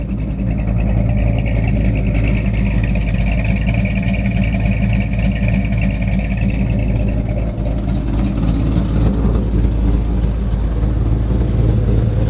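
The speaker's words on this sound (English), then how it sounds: "It's great sounding exhaust." Loud, close, steady low rumble from the dual Flowmaster exhaust of a 1953 Chevrolet 3100 pickup with a 350 V8, holding mostly at idle with a mild shift in tone partway through rather than distinct sharp revs.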